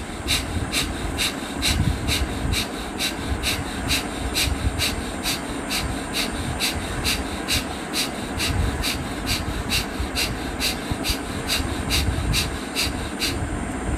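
Kapalbhati yoga breathing during a group fitness session: a steady run of sharp, forceful nasal exhalations, about two per second, evenly spaced over a low background hum, with no talk.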